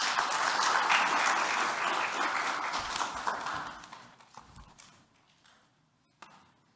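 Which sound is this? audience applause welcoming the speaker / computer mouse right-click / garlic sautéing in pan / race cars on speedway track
audience applause welcoming the speaker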